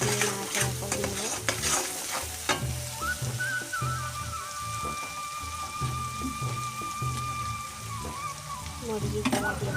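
A spoon scrapes and stirs food frying in a pan as turmeric goes in, steady sizzling throughout with rhythmic scraping strokes, close and fairly loud, with a faint whistle-like tone in the background.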